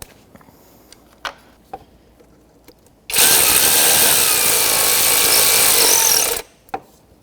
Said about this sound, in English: That's going to be a 10mm socket, so let's get one and snug it up.